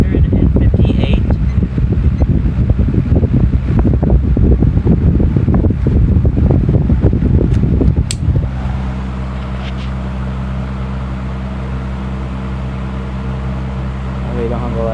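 A Mathes Cooler 16-inch electric fan, model MC-504, runs close by with a loud, rushing roar of air buffeting the microphone, then settles into a steadier, quieter hum with a clear motor tone.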